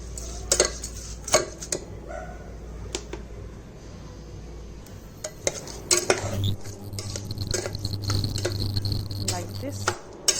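Rice is stirred in a pan while making mitha kanika, a sweet Odia rice dish. A spoon scrapes and taps against the pan in irregular close clinks over a steady low hum of cooking.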